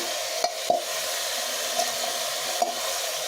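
Cauliflower, potato, carrot, peas and beetroot fry in oil for pav bhaji, giving a steady, even sizzle broken by a few sharp scrapes and knocks of stirring.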